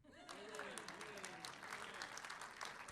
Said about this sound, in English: and you can applaud.